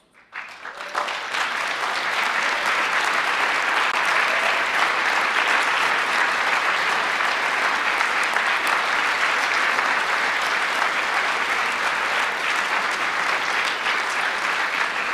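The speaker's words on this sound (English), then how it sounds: "they all deserve a round of applause" Loud, sustained applause from a large audience at a public health event, rising quickly after a moment of quiet and holding as dense, even clapping for over ten seconds.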